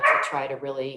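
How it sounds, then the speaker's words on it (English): Dogs bark in the background, a brief yapping burst under a man's speech that dominates the moment. "sorry about my dogs"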